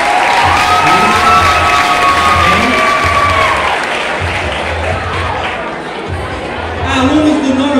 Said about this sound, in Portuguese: Peço uma salva de palmas para os alunos do 9º A